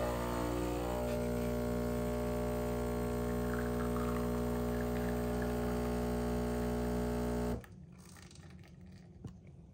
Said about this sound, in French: on lance un espresso, on observe, l'extraction c'est vraiment là où tout se joue